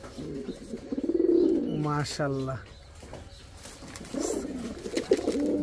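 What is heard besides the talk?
Tula pigeon cooing non-stop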